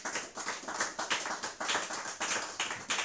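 A church congregation claps rhythmically to acclaim Jesus Christ, sounding as a steady series of loud, bright clap bursts in a fast repeating beat.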